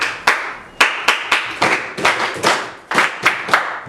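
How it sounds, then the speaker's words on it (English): A class of people clapping together in unison, a dozen or so sharp, fairly loud group claps in a slightly uneven rhythm with short gaps, with no talking. "We're working on everybody doing those claps."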